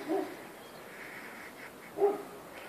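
Two faint, distant dog barks about two seconds apart, heard over a quiet outdoor background.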